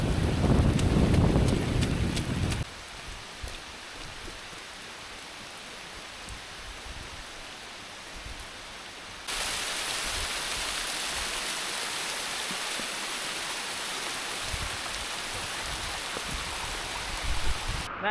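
Heavy rain pours at the Copperlode Dam spillway lookout in Cairns, a dense steady roar of water and wind buffeting the microphone, loud and continuous with a rougher opening burst.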